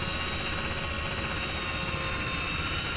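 Chinook twin-rotor helicopter in a co-op military video game, a steady dense rotor and engine drone holding constant and fairly loud throughout, with no voices.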